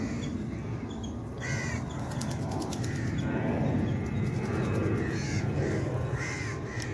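Several crows caw repeatedly, loud and nearby, at a beach in Kerala, over a steady outdoor background hum with a few softer bird calls mixed in.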